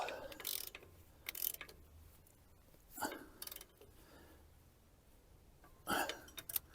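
A ratchet wrench clicking as it tightens an Allen stud with a 14mm hex during repairs on a McHale and Kuhn LSB 1270 baler, heard as short intermittent ratcheting bursts, fairly close, with quiet workshop noise between them.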